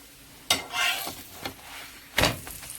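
Guyanese oil roti cooking in a hot oiled pan, with soft sizzling under two sharp scraping bursts from pressing and turning the flatbread, quiet and close.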